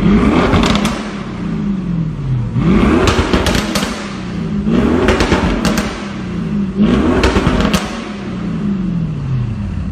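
An Audi RS6 fitted with a Milltek exhaust in dynamic mode revs repeatedly, with four loud, rising surges that each fall back to idle, marked by sharp crackling pops between the revs.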